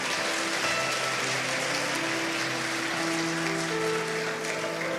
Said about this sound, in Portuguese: Você pode dar um aplauso para comemorar por isso.